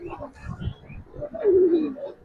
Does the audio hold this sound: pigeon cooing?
yes